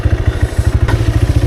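Motorbike engine chugging on an off-road trail, a rapid, regular low thumping pulse heard close and fairly loud, without talk.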